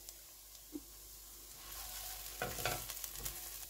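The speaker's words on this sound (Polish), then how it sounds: "Do cebuli teraz dołożymy czosnek i smażymy około 5 minut." Onion frying in a pot for a Polish peasant stew, with a soft, steady sizzle and occasional stirring scrapes that grow louder in the second half.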